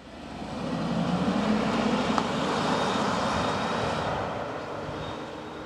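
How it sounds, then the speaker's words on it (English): A Volkswagen Phaeton car engine runs as a muted, steady broadband drone that swells slightly and then eases, with no talk. "But the engine sounds similar, if perhaps a little bit more muted."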